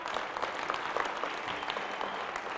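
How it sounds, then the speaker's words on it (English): Audience applause in a college convocation hall after a wheelchair trick, a steady dense clapping wash that stays even and moderately loud throughout with no voices over it. "give him a round of applause"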